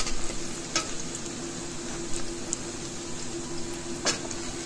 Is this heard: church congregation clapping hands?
no